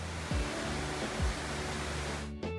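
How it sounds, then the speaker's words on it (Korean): Rushing river water heard from a ryokan hot spring bath at a Yugashima onsen on the Izu peninsula, a steady broadband roar of moderate loudness with a few low thumps, continuing alone without talk. "세찬 물소리가 들리네요"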